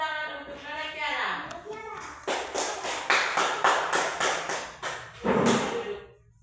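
A classroom of children claps together for a classmate, a burst of dense, overlapping hand claps lasting several seconds after a child's brief speech, fading with a final louder flurry.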